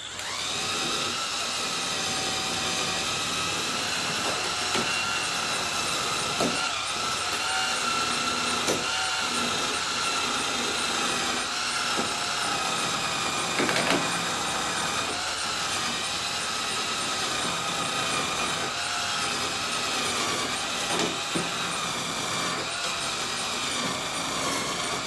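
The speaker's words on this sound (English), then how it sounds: "I'm going to clean it up with a wire wheel" Worn wire wheel on a power tool grinding rust off a snowblower wheel axle, a continuous loud whirring scrape held steady for the whole stretch with slight variations as it bites the metal.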